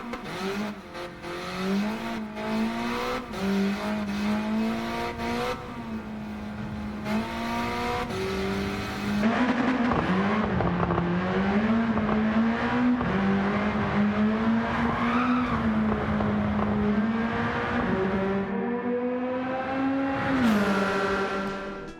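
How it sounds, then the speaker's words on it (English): A 1970 Abarth 595 carrying a Civic K20 engine making over 500 horsepower, driven in Gran Turismo 7, screams through continuous high revs that climb and drop with each gear shift; the engine is loud and alone, with no talking. "Next up will be the 1970 Abarth 595. It takes a K20 out of the Civic and makes over 500 horsepower"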